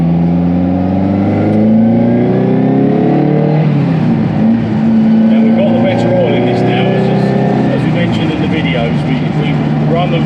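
A restored Ferrari 308's engine runs on the road, a loud continuous engine drone close by with rising and falling revs as gears change, accompanied by road and wind noise.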